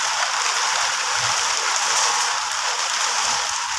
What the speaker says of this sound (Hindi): काफ़ी तेज़ी से बारिश आ चुकी है इस टाइम।